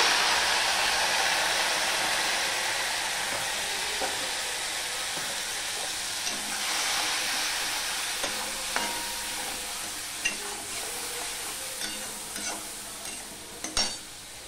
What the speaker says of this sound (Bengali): ধনের গুঁড়ো দিয়ে দিলাম, হাফ চামচের মতো লঙ্কার গুঁড়ো দিয়ে দিলাম, একটু জল দিয়ে দিলাম মশলাটা কষানোর জন্য।